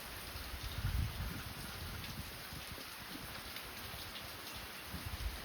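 Heavy morning rain pours down at a farm doorway in a dense, continuous hiss, steady and fairly close, with no one speaking.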